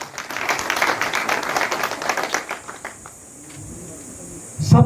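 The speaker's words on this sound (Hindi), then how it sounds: "धन्यवाद करता हूं जोरदार तालियों के साथ" A crowd gives loud applause to a speaker at a social reform gathering, strong clapping for about three seconds that fades into quiet room noise before a voice starts at the very end.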